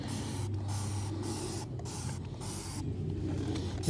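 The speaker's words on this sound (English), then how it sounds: "spray this car down in dawn" Dawn dish soap sprays onto a neglected Subaru WRX in a steady, close hiss, broken by a few short pauses between pumps of the sprayer.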